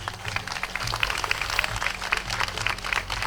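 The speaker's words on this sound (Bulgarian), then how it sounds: "Аплодисменти!" Scattered audience applause at a world folklore championship ceremony in Nesebar, moderately faint with uneven clapping and a low hum beneath.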